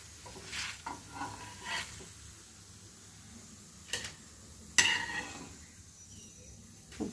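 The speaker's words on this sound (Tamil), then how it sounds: "சப்பாத்தி வேகட்டும் இதில் கொஞ்சமாக எண்ணெய் சேர்த்துக்கலாம்" Chapati cooking with a little oil on a pan, a faint low sizzle with scattered soft scrapes and one sharper clink of the pan midway, fairly quiet and close.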